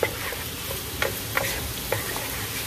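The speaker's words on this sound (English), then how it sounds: "Let that cook through. Cook in this tomato paste." Tomato paste and chopped vegetables sizzle steadily in a hot pan on high heat, a close, continuous frying hiss broken by a few sharp clicks of stirring.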